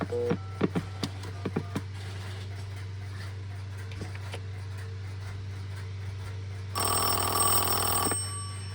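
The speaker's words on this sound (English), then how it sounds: "So right now the ringer is ringing off of my test line" After a few dialing clicks and tones, a Western Electric 1A2 telephone bell on a test line rings loudly with a metallic, rapid clatter for over a second, then stops.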